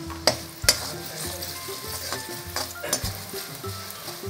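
Asafoetida sizzling in hot oil in a pan as the burner is switched off, with a steady frying hiss under repeated spoon scrapes and clanks against the metal.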